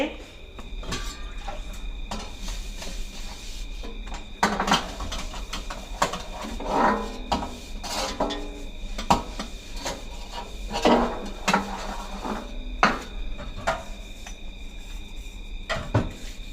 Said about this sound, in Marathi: स्वयंपाक झाल्या झाल्या ना स्वयंपाकाची भांडी मी लगेचच घासून घेते